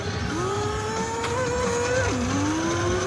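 Arcade racing game car engine, a synthetic revving whine that climbs and shifts pitch, with a sudden drop before building again, loud and continuous over busy arcade background noise.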